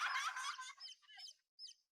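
Baby chicks give a few high, thin chirps, close and fairly faint, in short bursts that thin out into brief pauses.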